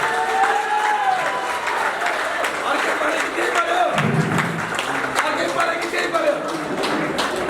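Guests at a Nepali Christian wedding ceremony applauding the couple, a dense, steady patter of clapping from a crowd, with a voice speaking over it partway through.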